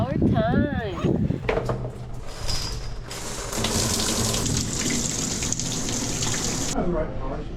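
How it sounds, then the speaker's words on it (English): A shower runs at a campsite in Monument Valley, a steady close hiss of water that carries through several seconds. Speech is heard before and after the spray. "Shower time."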